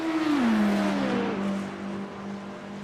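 Race car engines in an iRacing Daytona 24-hour race sim, a loud, close engine note dropping in pitch as if downshifting, then settling into a steady drone.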